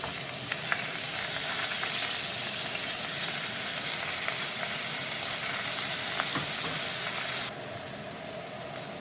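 Washed, well-drained spinach added gradually to a hot pan, frying with a steady close sizzle and light stirring clatter that continues throughout before dropping slightly near the end.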